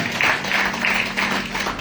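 Church congregation clapping together, a steady wash of applause filling the room at close range and holding even for under two seconds, with faint voices mixed in.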